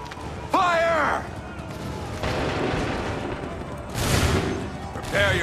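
Volleys of musket fire in the Assassin's Creed 3 video game, dense booming rolls of shots over constant battle noise, with shouted commands heard between them.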